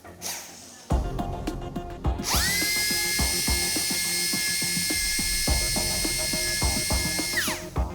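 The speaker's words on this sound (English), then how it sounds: "has now successfully drilled through the bone at the base of the skull" A surgical drill bores through the bone at the base of a dog's skull during tumour surgery, a loud, steady high-pitched whine that starts after a second and holds for about five seconds before winding down.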